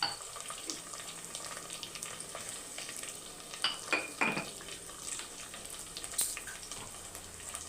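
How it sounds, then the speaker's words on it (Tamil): Small onions with salt sautéing in a cooking pot, a steady soft sizzle with occasional stirring clinks and scrapes, close by and alone. "சின்ன வெங்காயம் ஒரு நூற்றம்பது கிராம் போட்டு நல்லா வதக்கிக்கலாம்"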